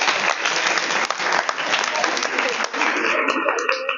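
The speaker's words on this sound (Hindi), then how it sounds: "उनके लिए जोरदार ताली।" Loud, dense clapping from an audience at a Republic Day programme at a village high school, sustained throughout with a broad steady wash of hands and some voices rising near the end.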